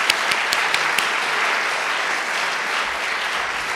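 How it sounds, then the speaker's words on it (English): Loud, dense applause from a museum audience at an artist talk in Brooklyn, a steady wash of many hands clapping that continues alone without a break for the whole stretch. "Now, yes, I think they deserve applause."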